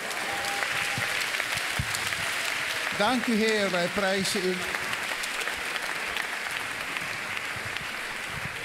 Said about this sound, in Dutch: Geef nog een applaus aan de heren.